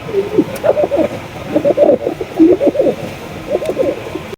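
Cooing of a pair of Lakha pigeons, a large fancy breed: several rounds of soft, throaty coos, close and steady, broken by short pauses, with quiet background noise.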